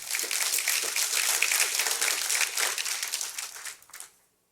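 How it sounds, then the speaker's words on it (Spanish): Church congregation at a Spanish-language Sunday service applauding loudly, dense sustained clapping that tapers off and stops near the end, leaving silence. "Dele un fuerte aplauso al Señor."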